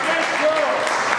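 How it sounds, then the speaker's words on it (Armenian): Applause at an Armenian wedding reception, with a dense burst of clapping from guests honouring the parents, loud and close, mixed with voices. "Ծափարում ենք մեր սուրբ ծնողների"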